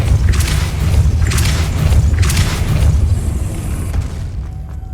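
Depulso force spell cast in the Hogwarts Legacy video game, heard as a run of heavy booming thuds with bursts of bright crackle, repeating roughly every second over a steady low rumble before fading out.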